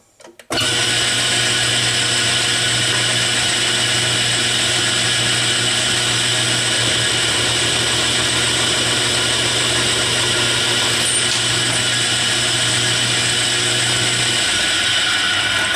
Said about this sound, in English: I'm set up with the countersink that matches the angle of the head of this